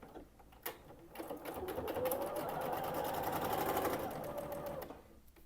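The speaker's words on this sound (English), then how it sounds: "We'll go ahead and sew it all together here into the 3 strips." A sewing machine stitches quilt block strips for a sawtooth star block, its needle chattering in a steady, close, rapid whir that ramps up, runs for a few seconds and then stops.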